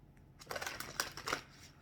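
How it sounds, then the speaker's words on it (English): A pile of reading cards is riffled and shuffled in quick papery bursts for about a second, close and soft in a quiet room. "I'm going to shuffle the last pile."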